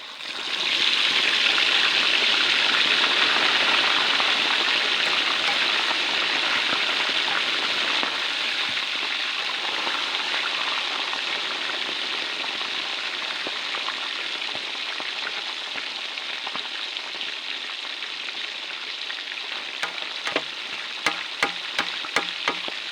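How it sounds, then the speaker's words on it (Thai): Snakehead fish deep-frying in oil sends up a loud, dense sizzle that is strongest as it hits the oil and then settles into a steady bubbling, with a few light utensil taps near the end. "ปลาช่อนครับทอดเลยครับ"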